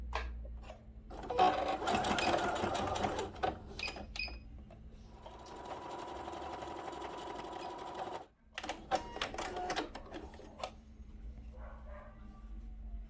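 Sewing machine stitching a fabric bag (a pochete), in two long bursts of rapid mechanical chatter with brief pauses and small clicks between, close and steady.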